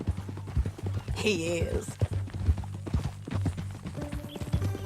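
Horse hooves clip-clop steadily through a Red Dead Redemption 2 game scene, a rhythmic close patter continuing under conversational voices and a brief whinny.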